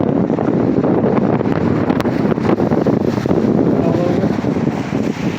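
Gusty wind buffets a microphone outdoors in a loud, continuous roar that stays strong from start to finish, with no clear talk heard over it.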